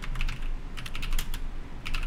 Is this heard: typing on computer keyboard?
yes